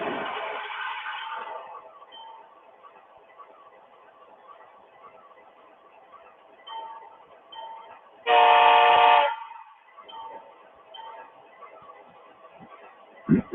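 A model train locomotive being programmed gives off low mechanical running sounds with a brief, loud horn blast partway through, all narrow and thin like a small speaker.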